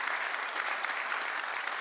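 A conference audience applauds in a dense, even wash of many hands clapping, loud and sustained throughout, with no voice over it.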